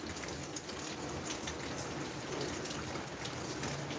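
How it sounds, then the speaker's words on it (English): Rain falls at night near a drum collecting rainwater, a steady, dense hiss of drops with a faint patter of water, continuous and even throughout. "it has started raining again"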